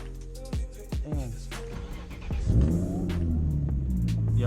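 Nissan 350z with a test pipe, a loud raspy exhaust revving hard: a few sharp blips early, then a sustained rising roar with deep rumble, close up.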